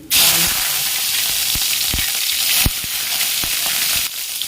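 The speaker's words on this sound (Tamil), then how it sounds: "எண்ணெய் காஞ்சதும் கடுகு போட்டுக்கோங்க. கடுகு, உளுத்தம்பருப்பு, கடலைப்பருப்பு, அடுத்து கருவேப்பிலை" Loud, continuous sizzling and hissing of mustard seeds, urad dal and chana dal frying in hot oil, close up, with a few faint ladle knocks against the pan and no voices.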